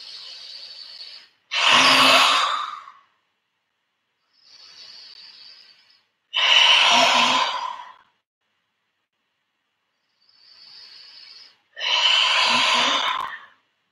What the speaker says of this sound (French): Three times, exhale by your mouth.